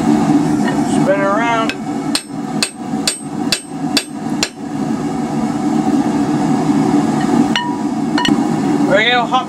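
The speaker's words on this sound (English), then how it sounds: "We're getting all hopped up to our 8-pound hammer." An eight-pound hammer strikes metal about six times in a steady rhythm, ringing sharply, over a constant roar of machinery and brief high squeals.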